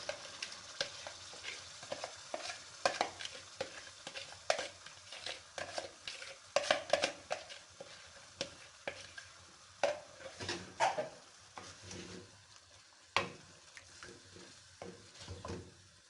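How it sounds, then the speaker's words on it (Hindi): Chicken marinated in yogurt frying in a pan for jalfrezi, with a quiet background sizzle broken by repeated scraping and clacking as a spoon stirs, irregular and close. "हम चिकन को इसमें तकरीबन 10 से 15 मिनट भूनेंगे मज़ीद"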